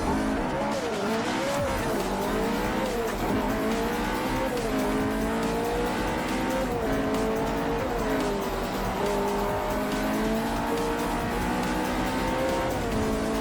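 Race cars in Forza Motorsport 4 on the Xbox 360, with loud, continuous engine whine rising and falling through gear changes and occasional tire squeal.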